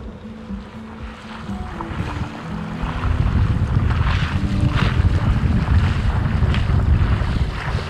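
A sailboat with a reefed genoa sails through the Swedish skerries near Strömstad, with wind buffeting the microphone and water rushing and sloshing against the hull, growing louder and steadier after the first few seconds.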